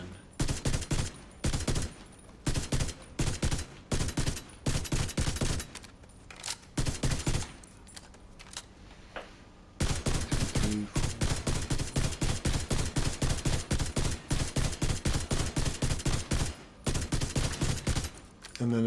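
Rifle fire in The Division 2, a long run of loud, rapid, evenly spaced shots in extended bursts broken by brief pauses, with a voice talking faintly underneath.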